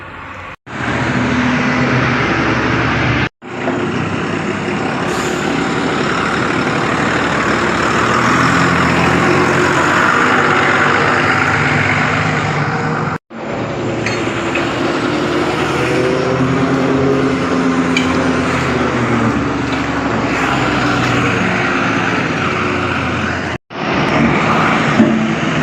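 A truck pulls away and drives on, its engine a loud, steady rumble that runs almost the full length, broken by three brief drops to near silence.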